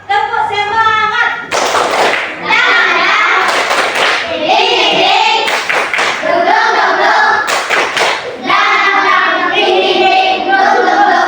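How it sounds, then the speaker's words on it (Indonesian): A classroom of children performs a rhythmic group clapping routine, sharp bursts of hand claps and thuds alternating with children chanting in unison, loud and close, with a teacher's voice at the start. "Ayo, tepuk semangat."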